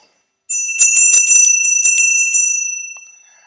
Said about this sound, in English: So this was Walter Delamare's bell